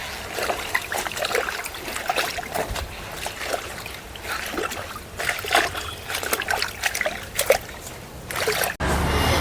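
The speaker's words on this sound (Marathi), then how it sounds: "पाण्यात टाकून देऊया, मस्त फ्रेश होतील ना." Leaves being dropped into water, a run of close splashes and trickling sloshes at an uneven rhythm, loud and fairly continuous with no clear talk.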